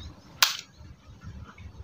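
A Sharp Tiger air rifle fires once without a pellet, giving a single sharp, close crack followed by quiet low background rumble.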